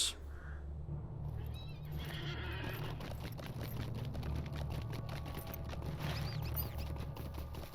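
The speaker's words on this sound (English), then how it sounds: "Get on my horse." A horse in the Lord of the Rings Online video game lets out a clear whinny over steady clip-clopping hooves, with a low continuous background hum underneath.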